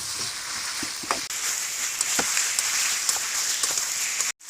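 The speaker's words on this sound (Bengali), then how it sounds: "এবার ভালো করে আমি এটাকে কিছুক্ষণ কষাবো।" Spices sautéing in a pan for mutton curry, a steady bright sizzle throughout with a few clicks of stirring, no talking, ending in a brief dropout.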